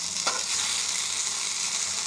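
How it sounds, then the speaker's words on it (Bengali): Eggplant slices fry in a little oil over low gas with a constant, bright hissing sizzle, close and even, broken once by a brief tap near the start. "গ্যাস কমিয়ে কমিয়ে ভেজে দিচ্ছি"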